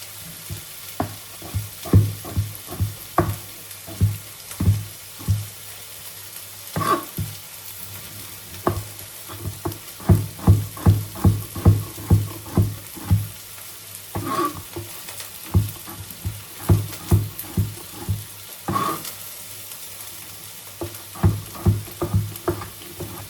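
Spices (ajwain) crackle and sizzle in hot ghee, with dense irregular popping bursts that rise and fall throughout, close and fairly loud, with no talking.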